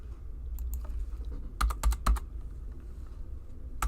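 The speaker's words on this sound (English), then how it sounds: "I'm just typing in something" Keys clatter on a computer keyboard in light scattered taps, then a quick burst of several sharp close strokes, with one more tap at the end.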